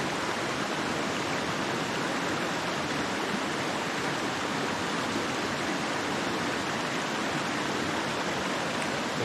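A mountain creek in the Great Smoky Mountains rushes the day after a hurricane. The flow is a dense, steady roar like a small waterfall, constant and fairly close with no talking.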